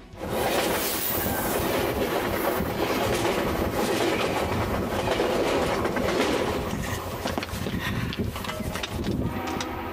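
A train rolls over railway tracks close by, a loud, continuous rumble with rhythmic clickety-clack from the wheels over ten seconds, with no talk.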